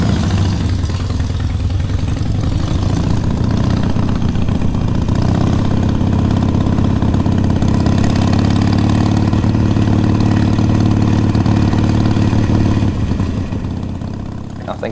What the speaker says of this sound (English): So this came with an S&S exhaust, and it sounded great.